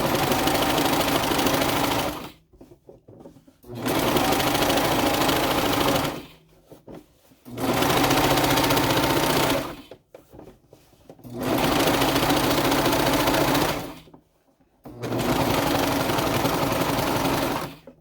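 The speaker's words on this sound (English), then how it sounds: "So I'll just put that in my cover stitch. And top stitch down this seam." A cover stitch sewing machine top stitches down a skort seam, running in five steady whirring bursts of about two to three seconds each, separated by short pauses. The motor is close and loud, with no talk.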